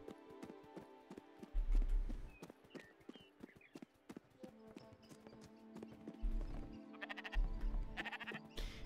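Sheep bleating in the Spiritfarer video game, heard as a few short bleats over game music, with hoof-like clip-clop beats and heavier thumps mixed in.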